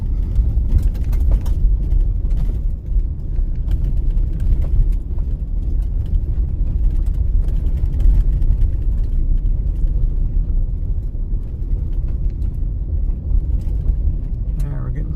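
A car travelling along the Florence Kelvin Highway, a scenic Arizona backroad, heard from inside the car as a steady, loud, low road and engine rumble that stays constant throughout.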